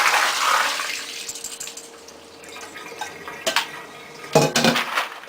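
Water splashes and pours out of a metal pot of soaked beans as it is drained, a rushing stream at first that thins out, followed by clanks of the pot and a few louder splashes.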